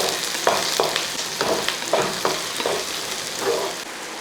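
Green chillies and curry leaves hiss and sizzle in hot oil in a pan, with a steady fry broken by rhythmic scrapes of a spoon stirring every half second or so, close and fairly loud.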